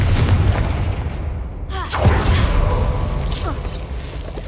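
The Confringo fire spell in Hogwarts Legacy goes off as a loud, booming blast with a whooshing rush, then a second heavy thump with crackling debris over a rumbling low roar.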